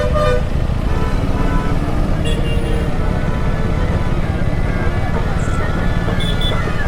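Heavy road traffic through a busy market area on a motorcycle trip between Gujarat and Madhya Pradesh, India: a loud, constant engine and road roar with a few short car horn toots rising above it.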